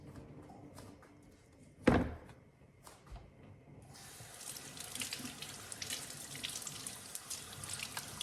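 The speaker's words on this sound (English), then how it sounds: "Why don't we just go ahead and give these a little wash and see what happens." A kitchen tap gushes into a sink as beans are rinsed under it: a few soft knocks and one sharp thunk come first, then steady running water fills the rest.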